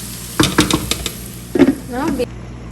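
Minced-meat qeema frying in oil in a pot, with a ladle scraping and knocking in several quick bursts over a soft sizzle, close by; a voice speaks briefly in the middle.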